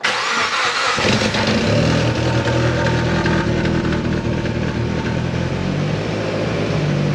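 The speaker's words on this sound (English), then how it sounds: "And start it up closed" A car engine with an EVO exhaust, its cutout valve closed, cranks and catches about a second in, then settles into a loud, steady, rumbling idle close by with no voices.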